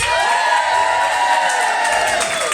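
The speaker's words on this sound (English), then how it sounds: "give me a cheer if you've had a great time tonight" A festival crowd at an all-women event cheers and whoops loudly and steadily, with high shrieks mixed into a dense, continuous roar that fills the whole stretch.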